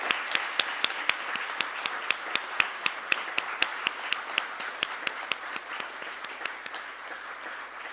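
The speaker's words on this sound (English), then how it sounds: "can we please give a round of applause?" A round of applause from an audience at a Parliament anniversary event honoring the women of Shakti, steady dense clapping with sharp individual claps standing out, loud and sustained before gradually thinning.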